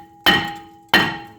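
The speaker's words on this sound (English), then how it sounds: "I'm gonna take this 3-pound hammer and we're just gonna knock it out." A 3-pound hammer strikes a Subaru brake rotor twice, each a loud, sharp metallic clang with a ringing tail, evenly spaced and heard alone.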